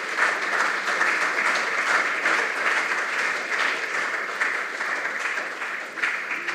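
A quiz audience applauds student contestants at a junior high school quiz quarterfinal, a dense, even roar of clapping that holds steady from start to finish.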